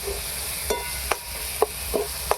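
Tomato, onion, garlic and ginger paste masala with salt and turmeric frying in a pan, a soft steady sizzle broken by several sharp scraping strokes of a stirring spoon.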